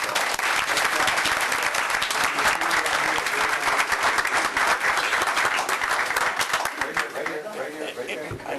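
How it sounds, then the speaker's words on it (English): People at a school board meeting break into steady, dense applause that lasts about eight seconds, with voices mixed in under the clapping. "Let's give the folks a round of applause."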